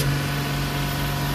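Tata 2523 BS4 truck engine running steadily at raised revs, a continuous near drone with a strong low hum and no other sounds.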